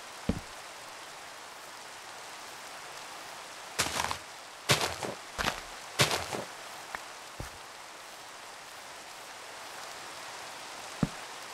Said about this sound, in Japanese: やばい、雨降ってきた。